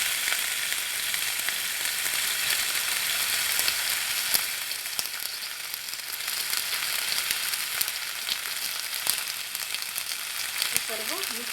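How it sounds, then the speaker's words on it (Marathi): Capsicum fries over high heat as sauces are added, with a dense, even hiss of sizzling oil close by and occasional soft crackles, steady throughout with no talking. "आता यात आपण तिन्ही जे सॉस आहेत ते घालून घेणार आहोत."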